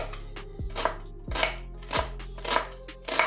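A knife chopping food on a cutting board in a kitchen, with about five sharp, evenly spaced chops and quieter scraping between them, close and clear with no speech.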